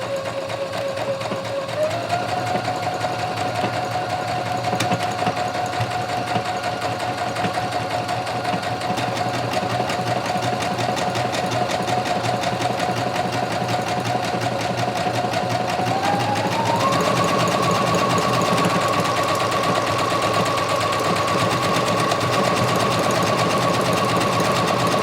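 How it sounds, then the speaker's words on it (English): A Brother CS6000i computerized sewing machine stitches a buttonhole in a steady, loud motor whir with rapid needle clatter, shifting pitch partway through as the stitch changes direction, running alone without pause. "So I'm gonna start sewing now."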